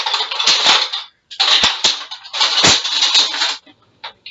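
A spoon stirs green food colouring into water in a bowl while making playdough, giving three bursts of close, scraping, clinking strokes with short pauses between.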